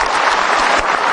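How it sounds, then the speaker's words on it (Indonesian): Loud, dense applause from a studio audience on a televised Indonesian talk show, a continuous wash of many hands clapping close to the microphones. "Kita kasih tepuk tangan."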